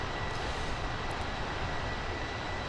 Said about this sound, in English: This is an Airbus A320.